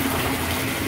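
Bath water running or churning with a fizzing bath bomb in it, a steady rushing gush heard alone for under a second.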